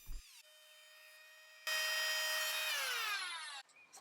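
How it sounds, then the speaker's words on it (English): An electric planer whines as it spins up and idles. It then bites into a repaired wooden table leaf, producing a louder, harsher, sustained cutting roar for about two seconds before winding down. "I need to use my electric planer to make sure it's the same thickness as the rest of the leaf"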